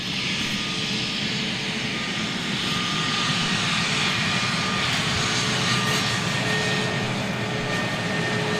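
Jet engines of an Airbus A321neo airliner give a steady, loud broadband roar that holds unbroken throughout, with no voices over it.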